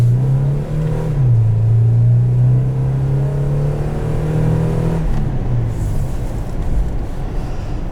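A 2008 Toyota 4Runner SR5 with about 158,000 miles pulls hard, its engine droning loud and close as the pitch climbs and dips, then gives way to a rougher rushing road roar partway through, with no voices.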